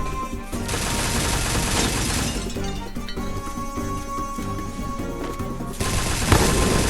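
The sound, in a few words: M60 machine gun firing in a video game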